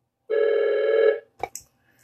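A single telephone ring during a live call-in broadcast: a steady electronic tone lasting about a second after silence, followed by two soft clicks.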